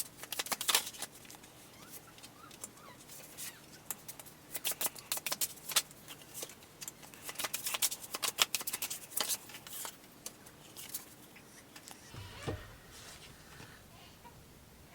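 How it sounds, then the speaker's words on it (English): Oracle cards are shuffled by hand at close range in a quiet room, a soft, steady run of papery riffles and flicks that tapers off near the end. "Let's shuffle a couple more oracle."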